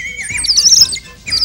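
A cartoon bird in a classic children's TV clown show chirps in quick high tweets and squeaky calls, close and fairly loud, with a short pause before a final chirp.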